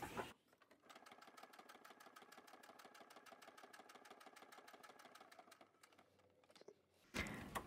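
Sewing machine stitching a wavy line on paper, a rapid even mechanical chatter of needle strokes running for several seconds before stopping, fairly close and alone.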